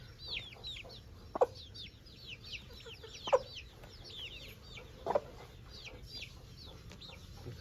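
Aseel champion breed chicks chirp constantly in a dense, high-pitched flurry of peeps, with a few louder thumps or clucks breaking through at intervals.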